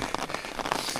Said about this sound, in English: I'm standing under the umbrella with my raincoat on, and it's still coming down